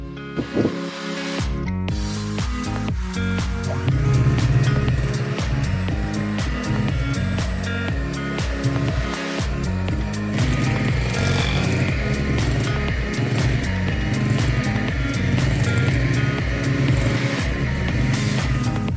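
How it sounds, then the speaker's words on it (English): Butter cake batter is whisked after 250 grams of sugar is added, a continuous motorized whir with a steady droning hum that holds evenly throughout, close up. "Then add 250 grams of sugar and whisk again."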